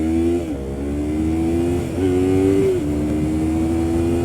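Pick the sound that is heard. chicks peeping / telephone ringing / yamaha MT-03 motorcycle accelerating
yamaha MT-03 motorcycle accelerating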